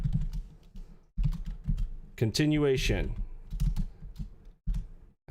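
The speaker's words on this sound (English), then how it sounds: "Let's go to some typing." Clicky keys rattle in quick bursts on a computer keyboard, close and fairly loud, broken by short pauses, with someone briefly speaking in the middle.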